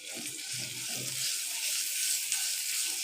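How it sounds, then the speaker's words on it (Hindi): Ginger-garlic paste frying in two tablespoons of hot cooking oil, a steady close sizzle that runs throughout, with a few faint clinks early on. "इसे थोड़ा सा फ्राई करेंगे"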